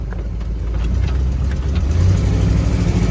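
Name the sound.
1970 Oldsmobile Cutlass 442 car cruising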